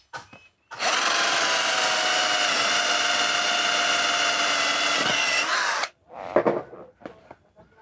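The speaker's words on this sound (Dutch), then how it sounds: "Weer mijn boormachine." A power drill runs steadily for about five seconds at close range, a loud continuous whine that stops abruptly, followed by a few brief clattering handling sounds.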